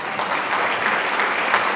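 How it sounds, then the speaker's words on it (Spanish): Audience clapping at a national education congress, a steady burst of applause from a crowd in a hall, fairly loud and continuous throughout. "Un aplauso entonces para Cecilia Del Bono, representante de UNICEF."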